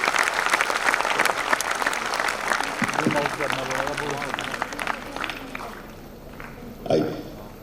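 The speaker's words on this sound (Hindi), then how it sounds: "जोरदार तालियों से स्वागत कीजिए।" Loud applause from a crowd at an Independence Day celebration greets an arriving guest, dense clapping that thins out and fades over several seconds before a brief final swell.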